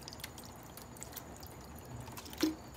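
Blue dye pours from a Coke bottle onto yarn being dyed, a soft faint trickle with a brief louder splash near the end.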